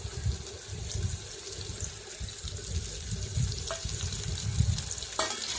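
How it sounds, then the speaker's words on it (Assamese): Tomato and eggs fry in a pan, a continuous low bubbling sizzle with a couple of brief clinks of a utensil, close and moderate in level. "আকৌ এতিয়া বিলাহী আৰু কণীখিনি মই ভালদৰে ভাজি ল'ম।"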